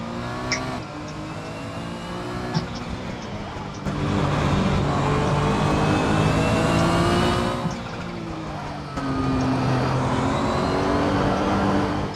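A racing car engine in the video game Assetto Corsa, loud and close, its harmonic whine climbing and falling through gear changes with sustained high-revving stretches, alone without speech.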